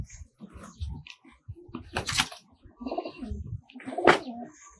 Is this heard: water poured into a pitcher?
no